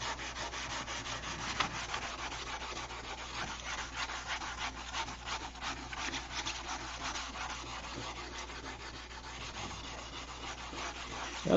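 Steady, continuous sanding of an aircraft wing, a dense rasping hiss that runs evenly throughout with small surges, close and fairly loud, no talk.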